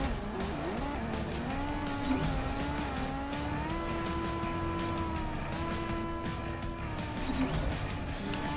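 An engine drones and shifts pitch as a race car drifts in Disney Infinity's Cars 2 mini game, with a steady sustained tone, a faint tire squeal and a few light knocks, moderately quiet throughout.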